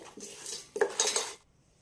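Chicken pieces mixed with chili powder, salt and turmeric in a metal bowl, two short bursts of close scraping and clinking from a spoon against the vessel, then quiet.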